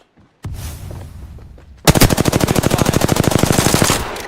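Rapid automatic gunfire from a video game shooter erupts after a quieter opening, a loud sustained burst of evenly spaced shots that runs to the end.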